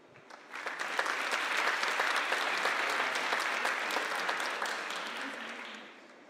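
A dense, steady wash of audience applause greets the president of King Abdullah University of Science and Technology, Sir Edward Byrne, at an event. It swells quickly, holds loud and even, and then tapers slightly toward the end.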